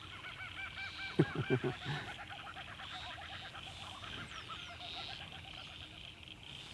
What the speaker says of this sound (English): my favourite bird, the kookaburra.